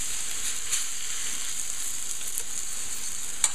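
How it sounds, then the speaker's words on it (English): Red wine hisses in a hot pan as it deglazes the browned bits left from searing steak, a thin, even sizzle at moderate level with one small clack near the end. "what we're trying to do is we're still trying to deglaze the pan here"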